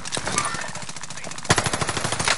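Rapid automatic assault rifle fire in a video game, a dense run of close, loud shots that breaks off briefly and then resumes in a sharper burst, with no talking over it.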